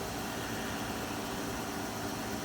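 A wood lathe spins a turned wooden snowman at about 1800 RPM while wire burns decorative lines into it, producing a constant, even whirring hiss throughout with no talking.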